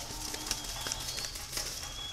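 Spotted doves at a dove breeding farm give soft, low cooing calls under steady background hiss, a few faint coos standing out briefly.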